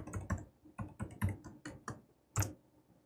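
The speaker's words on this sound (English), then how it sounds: "So I'm going to type that in right now." A password is typed on a computer keyboard as a quiet, close run of separate key clicks with uneven spacing and short pauses.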